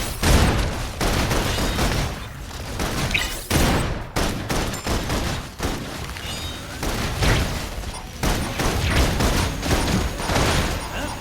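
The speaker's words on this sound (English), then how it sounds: "Requesting full suppression gunfire." Loud, dense bursts of automatic gunfire and explosions in the video game Love and Deepspace crackle almost continuously, with short pauses between volleys and a muffled voice briefly under the din.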